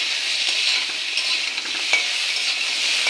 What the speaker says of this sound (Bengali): ভালো করে নাড়া চাড়া দিয়ে নেব।